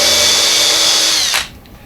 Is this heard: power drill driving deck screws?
yes